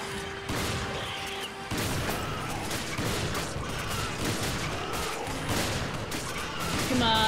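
Sustained gunfire aimed at an enemy in Resident Evil 5, a dense run of loud shots and impacts continuing throughout, with busy game noise behind.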